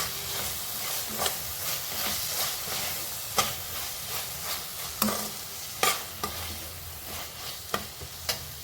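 Noodle chapathi ingredients with ketchup and a little added sugar being stirred and mixed in a pan, a steady sizzling hiss broken by repeated clinks and scrapes of the utensil.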